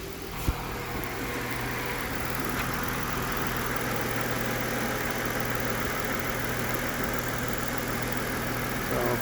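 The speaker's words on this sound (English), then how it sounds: "we got the engine running. We just cold started it." A 2010 Ford Fusion Sport idles steadily just after a cold start, a continuous even engine hum with a low drone, close by and without speech.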